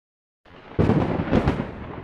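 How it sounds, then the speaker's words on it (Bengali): Cartoon thunder rumbling during a stormy night, starting after a short silence then breaking into a loud, rolling crash with a second swell, standing alone without talk. "ওই দেখ মেঘ ডাকছে,"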